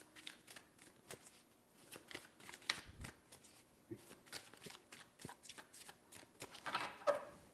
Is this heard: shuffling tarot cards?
yes